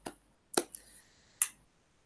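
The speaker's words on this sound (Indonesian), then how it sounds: "Kita beri 2 tepuk untuk Kak Jajat" A few short, sharp hand claps for a participant in an online meeting, sounding faint and close, with a soft tone lingering between them.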